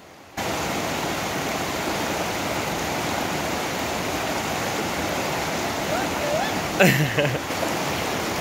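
River water rushes in a steady, broadband wash throughout, with a brief burst of voices and splashing near the end.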